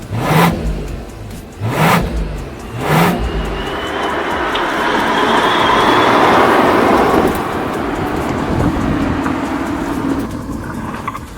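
A Mercedes-AMG CLE 53 engine revs in three sharp blips, then pulls into a long, loud, rising acceleration that swells and eases off, heard close with no talking.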